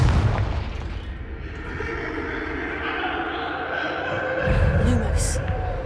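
Confringo fire spell explosions cast in Hogwarts Legacy, heavy booms blending into a dense, continuous rumble of game sound, with a stronger burst near the end.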